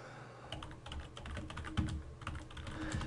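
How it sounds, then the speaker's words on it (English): Rapid, uneven keystrokes on a computer keyboard as a command is typed into STATA statistical software, close and fairly loud over a faint room hiss. "In our case, we're going to type in"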